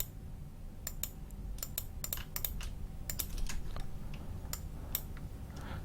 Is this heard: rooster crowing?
no